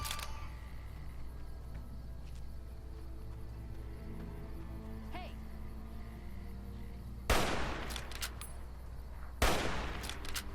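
Hunting rifle without a scope fired in Fallout: New Vegas, two sharp, loud gunshots a couple of seconds apart, ringing out over a steady low game ambience with faint distant firing earlier.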